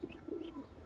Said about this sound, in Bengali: এই দেখেন কবুতরটা দেখেন